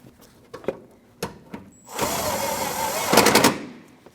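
An 8mm fender bolt is driven home on a 2014-2023 Jeep Cherokee with a power tool: a single loud, steady whir of a couple of seconds, then a sharper final burst, after a few light clicks and taps.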